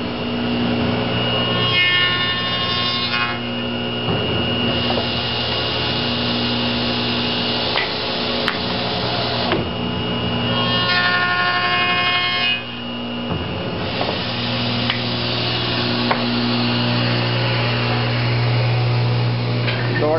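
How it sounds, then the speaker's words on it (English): Continuous rhythmic sanding of wooden doors at a mill, a steady rasping rub that swells and eases in long strokes, with a motor hum underneath. "we're sanding these doors here"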